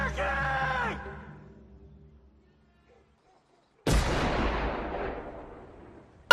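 A single loud gunshot boom that rings out and decays over a couple of seconds, following a brief shouted voice at the start and a stretch of near silence; close and forceful.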